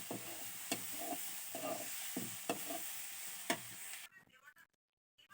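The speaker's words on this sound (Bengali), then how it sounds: "এখানে বিটরুট ভাজি করছি। বিটরুটের সাথে পেঁয়াজ পাতা দিয়েছি আর কাঁচামরিচ।" Beetroot with spring onion greens and green chili sizzles in a pan while a utensil stirs it in regular scraping strokes, then the stirring and frying stop abruptly near the end.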